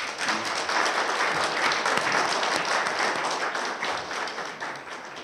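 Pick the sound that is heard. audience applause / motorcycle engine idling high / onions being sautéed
audience applause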